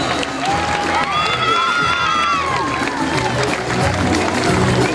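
Crowd at a palio riding event cheers and applauds as riders leave the arena: a loud, dense roar of voices and shouts with clapping mixed in, rising shrill cries and talk woven through.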